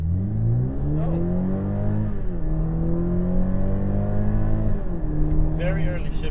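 A BMW Z4 20i M Sport accelerates in Eco Pro mode, its engine note rising steadily then dropping with early upshifts, loud and close throughout, with a brief exclamation from a person inside.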